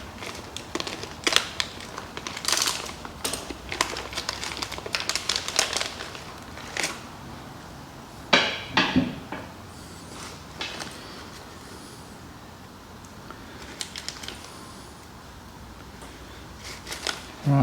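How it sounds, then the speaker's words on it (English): Small metal parts and bolts are handled and fitted together while assembling an air bag suspension unit for a Japanese mini truck, giving a series of close, irregular clicks, clinks and rattles with short pauses between. "I think I'll make a start now and actually start bolting all these bits together"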